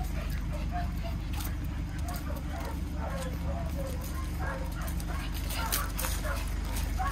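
Several dogs, including a Weimaraner and a Golden Retriever, whimper, yip and bark in scattered short bursts over a steady low rumble, with a person talking intermittently nearby.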